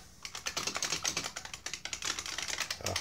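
Rapid, steady typing on an IBM Model M mechanical buckling-spring keyboard, dense clacky keystrokes in a continuous close-up stream with no talking.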